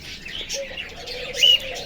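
Racing pigeons in a loft give short cooing and chirping calls, close and moderately loud, over a brief stretch.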